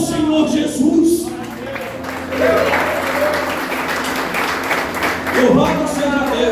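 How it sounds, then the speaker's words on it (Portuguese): Church congregation applauding at a sermon, a steady wash of clapping throughout with voices rising over it near the start and again toward the end. "Aplauda ao Senhor Jesus."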